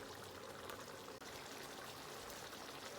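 Chicken stock pours in a steady, continuous stream into a spinach sauce, a close, full splashing with one brief break, and no one speaks over it.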